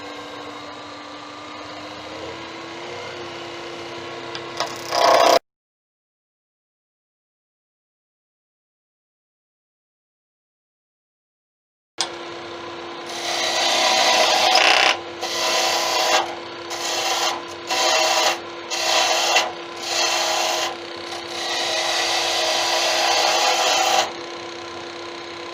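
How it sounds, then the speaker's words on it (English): A wood lathe turns a wooden wand handle on a pen mandrel, with a steady motor hum and rasping tool contact in repeated short cutting passes after a silent gap, close and fairly loud. "I'm going to round it off and turn the handle."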